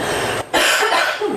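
A single sharp cough bursts out close by after a brief pause, with a short trailing throat sound.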